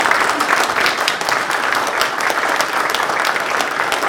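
An audience at a club's annual general meeting clapping, a steady, close burst of many hands that carries on throughout without pause.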